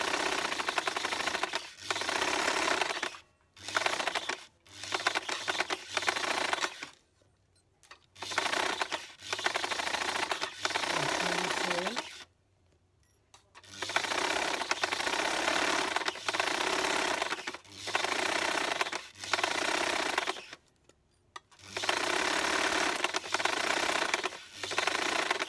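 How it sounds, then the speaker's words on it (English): Sewing machine stitching fabric in bursts of steady, fast mechanical running, stopping and restarting several times with short silent gaps, close and fairly loud with no talking. "Continue sewing."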